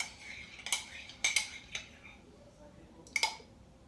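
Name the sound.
stirring a honey face mask mixture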